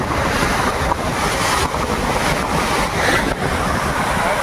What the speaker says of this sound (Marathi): खतरनाक लाटा आहेत.